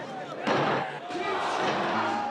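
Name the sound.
wrestling arena crowd reacting with a surprised roar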